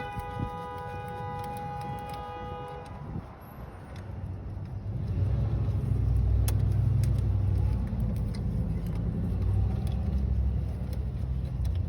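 A 2.4L Jeep Compass/Patriot starter cranks loudly, a steady mechanical churn that swells into a fuller, continuous rumble after a few seconds, heard close up with no talking.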